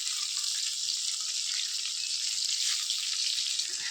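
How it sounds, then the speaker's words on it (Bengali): Koi fish fry in oil in a pan, giving off a steady, even hiss of sizzling bubbles close by, with no voices over it. "তেল কই মাছগুলো ভেজে নিচ্ছি, হালকাভাবে ভাজতে হয়।"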